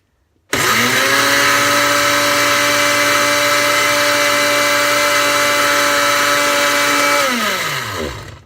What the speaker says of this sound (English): I almost turned on the blender with my spoon.